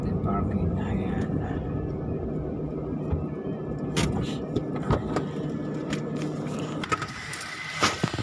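A car being parked, its engine holding a low, steady hum close by, with scattered clicks and knocks toward the end and voices talking over it.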